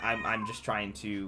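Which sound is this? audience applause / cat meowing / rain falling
cat meowing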